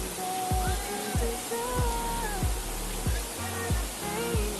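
A small waterfall stream on a trek to Pangrad waterfall rushes in a steady, broad wash of water close by, while several people talk loudly over it throughout.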